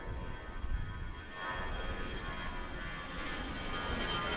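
An airliner arriving at Washington Reagan National Airport makes a faint, steady distant engine rumble with broadband hiss. It stays fairly even throughout with no voices.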